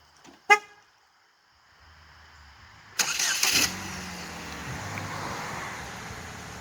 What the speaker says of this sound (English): First official start on the HHR with the new timing kit and exhaust